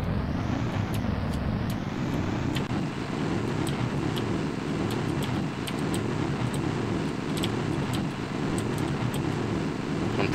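A rocket engine firing in the video game Kerbal Space Program, a continuous loud roaring rush with faint clicks scattered over it, steady and unbroken for the whole stretch.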